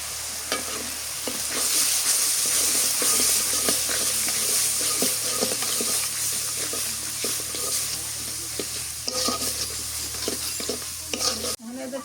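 Ground spice paste with turmeric sizzles and fries in a pan for a Bengali rohu fish kalia, stirred steadily with scraping strokes over a continuous close hiss, with a brief pause near the end.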